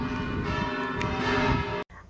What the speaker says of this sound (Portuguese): olha só, os sinos nos saudando